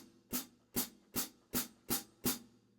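Six closed hi-hat chicks played heel down, evenly spaced about two per second, each a crisp short splashy tick with a slight low thump, close and alone.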